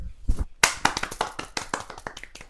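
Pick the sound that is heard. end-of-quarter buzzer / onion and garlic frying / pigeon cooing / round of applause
round of applause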